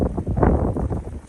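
Cold blizzard wind in Maine roars and buffets against the microphone in loud, uneven gusts with low rumbling and no clear voices.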